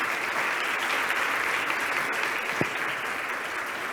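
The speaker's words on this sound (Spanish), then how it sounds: "un aplauso de vuelta" An audience claps steadily after an urbanism talk, a dense, even wash of applause filling the whole stretch without pause.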